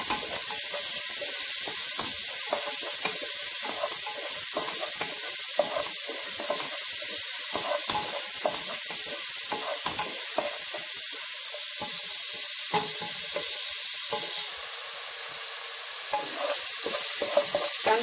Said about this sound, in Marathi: कांदा चांगला परतून घेऊया, थोडा गुलाबी करायचा कांदा आपल्याला